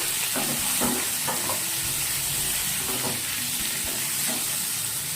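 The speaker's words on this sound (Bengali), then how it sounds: "ডিমটা বসিয়ে দিচ্ছি লাল লাল করে ভেজে নেবো" Eggs fry in a pan for egg curry, making a loud, continuous sizzling hiss close by, with occasional clattering stirs breaking through.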